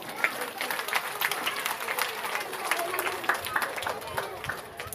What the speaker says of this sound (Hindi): आज अपने लिए और स्कूल के लिए जोरदार तालियां बजा दीजिएगा